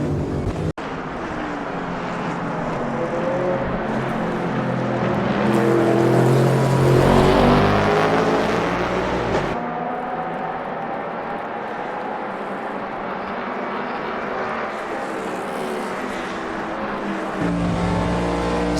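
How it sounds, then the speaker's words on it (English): A NASCAR Next Gen car's engine roars in the Automobilista 2 racing game, a sustained loud drone that climbs in pitch, peaks, drops back through shifts and builds again, with no talk over it. "That engine really does sound impeccable. It's extremely well modelled."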